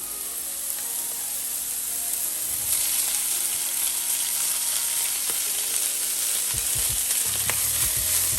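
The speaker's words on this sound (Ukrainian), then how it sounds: "Додаємо сюди нашу смажену іншу суміш, це бекон, цибулька і часник." Fried bacon, onion and garlic stirred into a pan of lentil risotto, giving a steady close sizzle and hiss with occasional spoon scrapes and stirring knocks toward the end, no talking.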